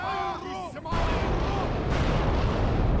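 A Dragon's Breath cannon fires in a Third Age Total War Reforged battle. A brief voice comes first, then a loud, sustained booming roar that fills the rest of the moment.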